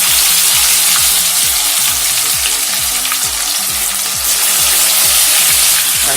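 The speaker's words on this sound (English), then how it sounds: "add the remaining so that it's all fried and you get the crispy kebab" Beef kebab pieces fry in a pan for a South Indian recipe, giving a loud, steady sizzle and crackle with rhythmic stirring scrapes throughout, and no talk.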